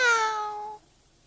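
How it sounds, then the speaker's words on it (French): A single clear cat meow, close and fairly loud, sliding gently downward in pitch for under a second before cutting off into near silence. "Miaou."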